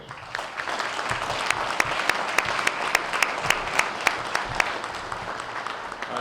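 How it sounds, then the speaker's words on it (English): An audience at the Two Hundred Club of Union County Valor Awards Ceremony in 2022 applauds family members, steady clapping with distinct individual claps standing out, moderately loud and without talk. "Let's give the family members a round of applause."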